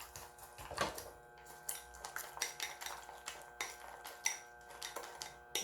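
A utensil stirs a mixture for tofu and deodeok pancakes near a heated frying pan, making a string of light, quick clinks and scrapes at close range, fairly quiet with no talking.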